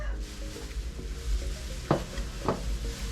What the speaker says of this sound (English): using the wire whisk you have to mix it